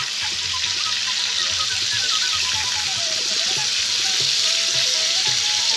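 Chicken pieces for a thick gravy curry fry in a pan and are flipped side to side, giving a loud, steady hiss of sizzling oil with light scraping and stirring noises and no talk.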